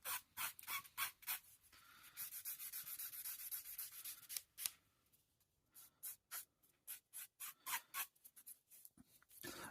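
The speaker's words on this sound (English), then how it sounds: "Just go in with the 800 grit just over where you've been sanding." Close, quiet strokes of 800-grit sandpaper on clear plastic model parts rasp back and forth, first in a steady scrubbing stretch, then in a rapid series of short, even rubs.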